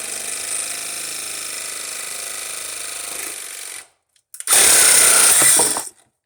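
A power tool saws through PVC pipe in a loud, steady whine, breaks off briefly, then returns in a second harsh, bright burst; no voices.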